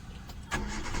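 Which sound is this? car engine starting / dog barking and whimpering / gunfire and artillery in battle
car engine starting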